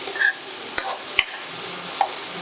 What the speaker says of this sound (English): Give that a nice stir as well.